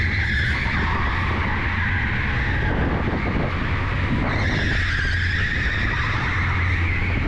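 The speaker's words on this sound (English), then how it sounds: "The surface is slippy and the torque is high, so controlling these karts is a challenge at times." Electric go-karts skid and squeal on a slippery indoor track at TeamSport Preston, a loud continuous tire screech with whining motors that rises and falls, with no talk over it.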